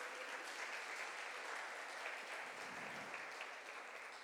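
Continuous applause from a church congregation, a broad, even patter of many hands at a fairly soft level, sustained without pause and easing slightly toward the end.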